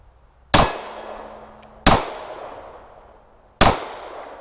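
A Glock 26 pistol fires three well-spaced shots at steel targets outdoors, each a sharp, loud crack with a ringing metallic clang that decays over about a second, no talk.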